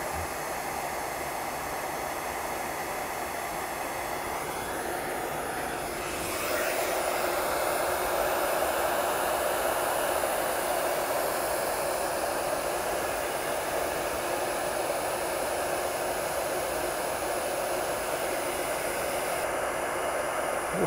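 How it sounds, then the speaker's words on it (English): A heat gun shrinking insulation on a spade terminal blows a steady, loud, close rushing hiss throughout, its airflow shifting slightly partway as it is moved. "So we're going to turn on our heat gun. We'll let it warm up a little bit."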